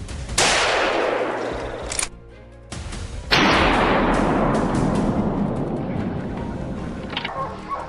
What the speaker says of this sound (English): gunfire erupts from other positions